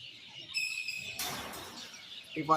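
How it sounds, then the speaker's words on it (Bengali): Pigeons kept for sale call in short bursts: bright chirps and twittering over a breathy background, ending with a lower tonal call close by. "এই যে পায়রা"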